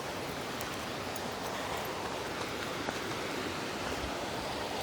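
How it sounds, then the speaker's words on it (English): A river flows continuously behind a countryside trail near Pinecrest and Strawberry, a steady broadband rush of moving water, moderately loud and unbroken, with no voices. "No matter which trail you're on, you can always hear the river behind you"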